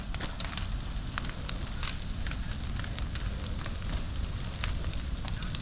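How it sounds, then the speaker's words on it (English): A bonfire of old pallets and tree limbs burns steadily outdoors, a dense, continuous roar with frequent sharp crackles and pops, close and loud, with no voices. "We decided to start a bonfire."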